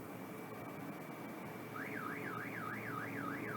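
A car alarm wails in the DDLC Vigilante video game, a rising and falling electronic siren tone that starts partway through and repeats in rapid even sweeps over a quiet city background hum.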